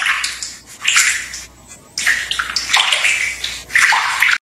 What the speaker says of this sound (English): And then I'm going to take a bath.